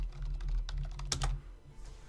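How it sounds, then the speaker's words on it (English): Clicky typing on a computer keyboard, a quick burst of keystrokes with one louder cluster of taps near the middle, close and alone over faint background hum. "to make it so that my keyboard wasn't as easily heard"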